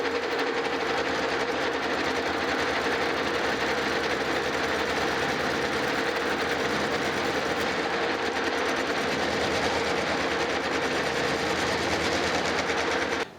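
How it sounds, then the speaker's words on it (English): A metal lathe chamfers a weld-built journal on a cane mill roller, giving a steady, loud mechanical drone with a constant hum that runs unbroken throughout, with no voices. "we'll put a chamfer tool on there and try to clean that up a little bit"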